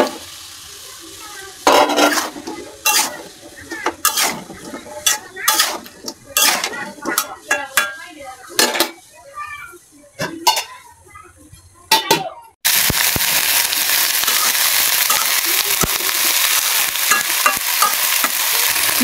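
Small shrimp and sweet gourd (pumpkin) cooking in a pan, hill-style curry: a spoon scrapes and clatters through the pan in bursts, then a loud, steady sizzle of frying takes over near the end.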